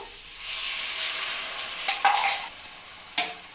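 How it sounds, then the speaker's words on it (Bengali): A cauliflower and potato curry is stirred in a pan with a spoon, a soft continuous scraping and sizzle broken by two sharper clatters of utensil against metal, close and with no talk. "এবার এটাকে ভালোভাবে নাড়িয়ে নেব"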